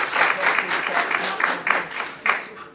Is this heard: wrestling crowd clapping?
yes